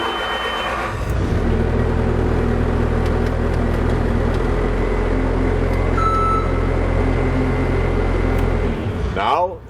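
Engine of a Bobcat loader starting up during a daily maintenance check, then idling with a loud, steady low rumble and a constant mechanical hum close by for several seconds before it cuts off.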